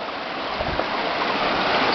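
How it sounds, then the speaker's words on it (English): A small waterfall pours in a natural river setting, a steady close rushing of water filling the whole moment without voices. "Nice waterfalls. Nature."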